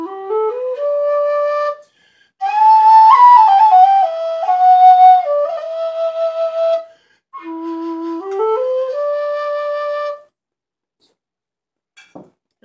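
A Colin Goldie tin whistle in D plays a bright, lilting melody in three phrases separated by short pauses, followed by a couple of faint taps.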